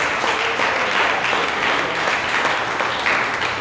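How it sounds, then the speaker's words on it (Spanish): Church congregation clapping during a sermon, a full steady round of applause sustained through the clip with no talk over it. "Denle un aplauso al Señor si usted quiere"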